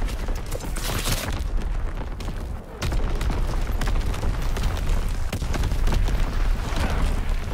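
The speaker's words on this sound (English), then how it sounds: "Incoming enemy artillery." Enemy artillery shells exploding in a video game amid mortar fire, heavy booms and dense crackling blasts rolling on continuously at close range, loud throughout.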